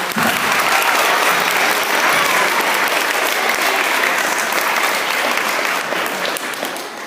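A crowd of parents and students claps for third graders' state speeches at a school feast, steady dense applause holding loud for about seven seconds before easing slightly at the end.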